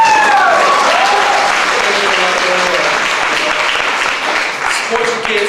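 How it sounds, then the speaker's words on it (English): Comedy show audience clapping loudly and steadily throughout, a dense wash of applause with a few voices calling out near the start, tapering slightly toward the end. "Clap if you agree."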